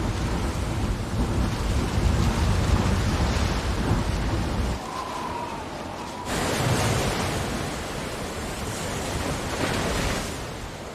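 A Caribbean hurricane storm roars with heavy rain and rumbling thunder, loud and continuous with a sudden drop partway through before the storm noise surges back.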